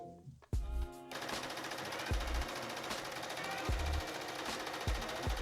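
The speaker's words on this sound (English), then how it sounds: "fold it in half, and then stitch pretty close to that folded over edge all the way down" A sewing machine stitches close along the folded edge of a dress strap, starting abruptly and running in a fast, loud, steady mechanical rattle at close range.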